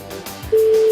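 A steady electronic telephone tone starts halfway through and holds, loud and continuous, after a brief stretch of low background noise.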